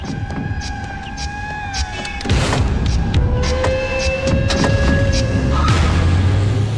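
Car doors thump shut as people climb into a vehicle, one loud thud partway through followed by steady rumbling and faint clatter, with a hum continuing underneath.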